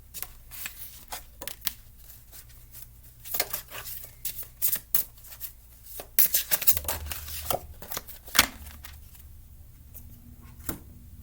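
Dark Mirror Oracle cards are shuffled by hand in irregular bursts of riffling and flicking, with short pauses between, close and fairly soft.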